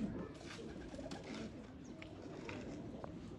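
Crossbred pigeons from a Mian Nazir bloodline coo faintly in a soft, continuous murmur, with a few small chirps above it.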